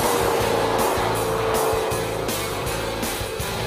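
A 2004 Mercury Marauder with a 4.6-liter dual overhead cam V8 is driven hard, its engine giving a loud, steady, throaty drone with pulsing tones over the road noise.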